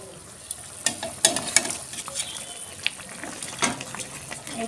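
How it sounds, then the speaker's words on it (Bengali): Fried fish pieces go into a boiling Bengali fish curry, a bubbling simmer broken by a few soft splashes and clinks, heard close with no talk. "এবারে আমি ভেজে রাখা মাছগুলো দিয়ে দেবো।"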